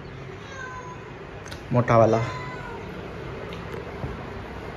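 A cat at home gives a single short meow, fairly close, over a steady low background hum; a voice speaks briefly.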